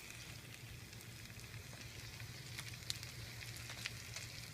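Pieces of moose heart searing in butter in a hot pan, a faint, steady crackling sizzle with occasional small pops over a low hum, no voices.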